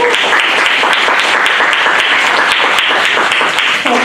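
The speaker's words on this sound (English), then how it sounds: "Let's have a round of applause for both of them." A symposium audience breaks into dense, steady applause, loud and sustained throughout with no talking over it, many hands clapping together in a continuous wash.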